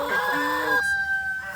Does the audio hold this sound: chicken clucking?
yes